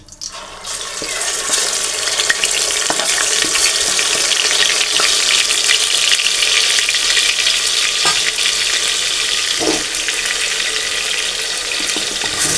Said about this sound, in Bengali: এরপর আমি পেস্ট দিয়ে দিব পেঁয়াজ রসুন এবং আদার পেস্ট